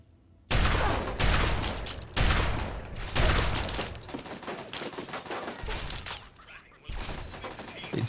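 Automated turrets open fire in Fallout 3, with several loud bursts of rapid gunfire in quick succession, sharp onsets and short pauses between volleys, mechanical rattle underneath.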